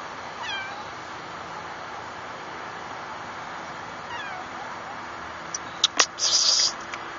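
A cat gives a couple of faint meows against a steady background hiss, followed by a few short, sharp sounds near the end.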